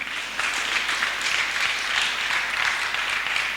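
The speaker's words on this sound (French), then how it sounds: "On acclame Seigneur Jésus." Church congregation applauding Jesus, steady dense clapping from a large crowd sustained throughout at moderate volume.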